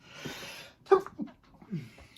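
A single abrupt sneeze bursts out up close, followed by a couple of short sniffs and breathy sounds.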